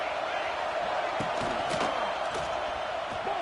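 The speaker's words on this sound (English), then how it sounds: "This crowd still bringing the intensity to open the second half." A football stadium crowd at a USC game roars steadily as the second half opens, a loud diffuse wash with occasional sharper shouts and thuds rising from the mass of voices.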